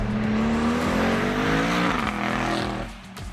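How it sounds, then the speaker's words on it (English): A Brabus-tuned Mercedes G63 exhaust revs hard and loud up close, engine pitch climbing steadily then dropping off as the throttle eases near the end. "Best exhaust I've heard for a G63."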